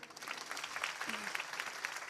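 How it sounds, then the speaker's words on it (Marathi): A crowd applauds steadily, dense clapping filling the space at moderate volume for a couple of seconds. "टाळ्या वाजवा ना जोरदार"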